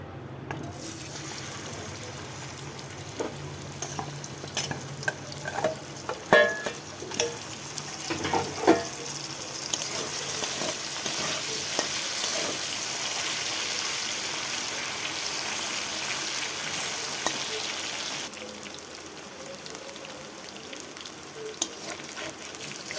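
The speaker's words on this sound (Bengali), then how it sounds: "তো কচুটা আমি হালকা করে সেদ্ধ করে নিয়েছি বন্ধুরা, এখন একটু আমি ভেজে নেব।" Lightly boiled taro (kochu) fries in a pan, a steady bubbling sizzle broken early on by a cluster of spoon clatters and stirring knocks, then settling into an even hiss.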